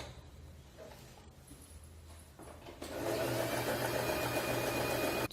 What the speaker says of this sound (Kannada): ಸೊ ಈಗ ನಾನು ಇಲ್ಲಿ ಪಕ್ಕದಲ್ಲಿ ಸ್ಟಿಚ್ ಹಾಕಿ ತೋರಿಸ್ತೀನಿ ಹೀಗೆ